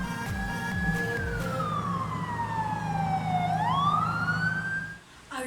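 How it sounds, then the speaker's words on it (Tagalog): An ambulance siren wails alone in a long, smooth falling-then-rising sweep, loud and steady, with traffic rumbling underneath before it cuts off near the end. "This sound comes from an ambulance."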